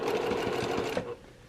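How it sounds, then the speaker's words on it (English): A sewing machine runs a short burst stitching a zipper onto a fabric tote bag, a steady rapid whirring hum for about a second before stopping, close and moderately quiet. "I'm going to go back and I'm going to sew that again"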